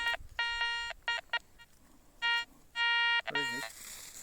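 Metal detector signal tones sound repeatedly during outdoor detecting practice, several bright beeping bursts of varying length with a brief warbling tone near the end, over faint background noise.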